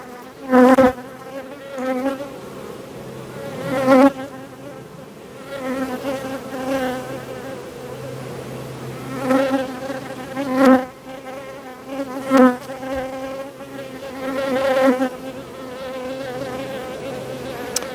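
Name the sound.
honey bees buzzing in a hive during wintering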